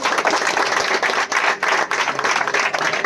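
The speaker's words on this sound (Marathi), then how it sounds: "तर त्यासाठी एक जोरदार टाळ्या झाल्या पाहिजेत" An audience at an award distribution ceremony for an MPL season claps loudly and energetically in a dense, uneven burst of applause close by.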